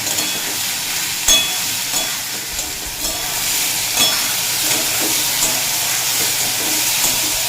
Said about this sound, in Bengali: ঝিঙে দিয়ে হাই ফ্লেমে দুই মিনিট মতো ভেজে নিয়েছি